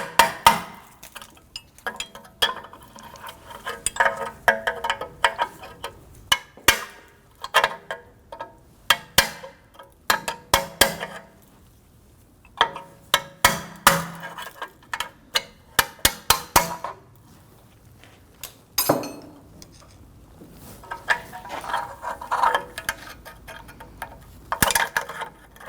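Screwdriver and pliers pry at a pin on a rear suspension spring clip of a 2005-2010 Chrysler 300 knuckle, giving scattered sharp metallic clicks, taps and clinks in irregular bursts, close and fairly quiet, with no talking.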